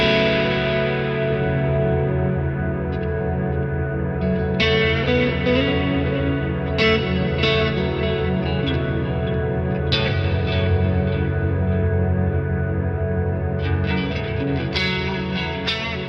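Electric guitar through the Neural DSP Archetype Rabea plugin with a freeze chord effect, a sustained frozen chord droning steadily with heavy echo and reverb while brighter picked notes ring over it, loud and continuous.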